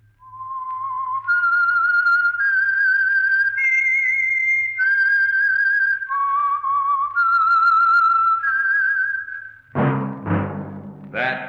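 A clear, lilting melody is whistled alone, each note sustained and sliding, followed by a short burst of orchestral music, the opening signature of the radio drama The Whistler.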